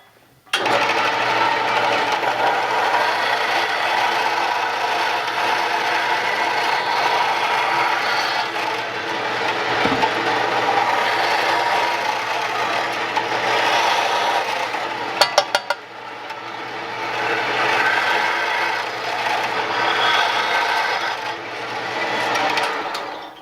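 A bandsaw cuts a homemade camping gear piece in half, giving a loud, close, continuous whirring buzz for over twenty seconds, with a few brief clicks partway through and no talking.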